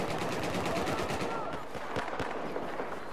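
Machine gun fire in Battlefield 4, rapid sustained bursts of rattling shots, fairly loud and continuous, with a voice talking over it.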